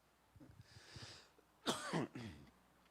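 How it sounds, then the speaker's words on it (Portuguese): A few soft sounds, then a harsh, close cough followed by a second shorter one, rough and throaty. "Estou com um pouco de tosse, perdoa um pouquinho."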